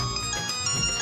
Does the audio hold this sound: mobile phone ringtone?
yes